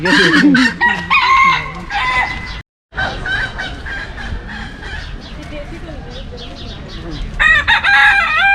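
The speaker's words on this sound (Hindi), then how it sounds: "Oh ja, Hühner. Das sind Hühner, du hast völlig recht." Chickens cluck busily close by at Berlin Zoo, with loud rooster crows near the start and again at the end, pigeons about, and people talk under the birds.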